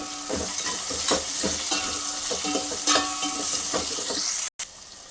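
Drumsticks, onion and green chillies frying in a pan, a steady loud sizzle with repeated stirring scrapes throughout, close and without talk.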